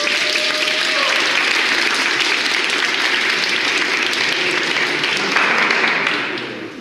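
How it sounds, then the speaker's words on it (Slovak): Big, sustained applause fills a rhetoric and negotiation-techniques class, dense and steady, then thinning out and fading near the end. "Potlesk veľký."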